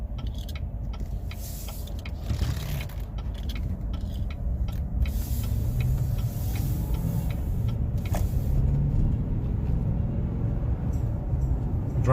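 A 2015 Chevrolet Silverado LTZ 4WD crew cab pickup drives along, giving a steady low engine and road rumble inside the cab with scattered small rattles and clicks.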